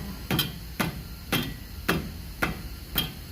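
The back of a hammer knocks on a Chevy Impala front hub assembly, giving six evenly spaced, sharp metallic taps about half a second apart over a steady background hiss.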